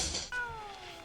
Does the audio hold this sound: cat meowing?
yes